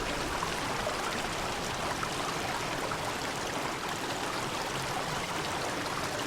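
A waterfall in the video game Obduction pours as a dense, continuous broadband rush of falling water, steady and fairly loud from start to finish, with no speech over it.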